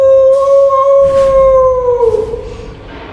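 A sustained howling voice holds a steady high wail that slowly falls in pitch, imitating a jackal, close and loud, with no other talk.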